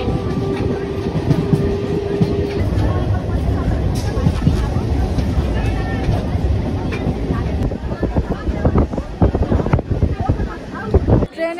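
A local train on the Howrah–Kharagpur line runs at speed, with a steady rumble, clattering wheels and wind buffeting, growing rougher and louder toward the end.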